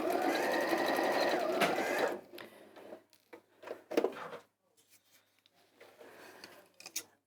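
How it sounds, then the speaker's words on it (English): A sewing machine runs a line of top stitching on quilting fabric at a lengthened stitch length, a steady close whir lasting about two seconds before stopping, followed by quieter handling sounds. "So just a few little top stitches, so let's increase the stitch length a little."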